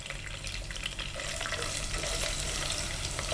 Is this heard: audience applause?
no